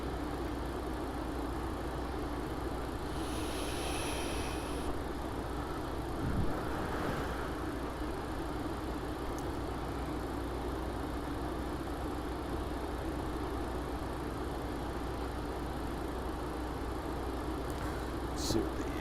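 Steady engine drone of a Douglas DC-3 on approach to landing in a flight simulator game, a constant low rumble with a brief rise partway through and faint tones above.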